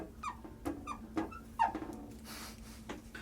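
A graffiti marker squeaks across a board in short, separate strokes, several bright squeaks in a row, close and fairly quiet.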